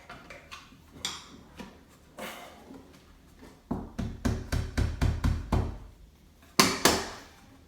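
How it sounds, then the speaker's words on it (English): Screws are driven into a Delta shower trim plate, heard as sparse sharp clicks that turn into a quick rhythmic series of knocks, then a final pair of louder snaps. "And then we'll run these screws in the rest of the way."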